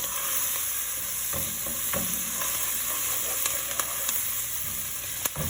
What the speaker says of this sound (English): our onions are coming over here. Look at this. Starting to brown up a little bit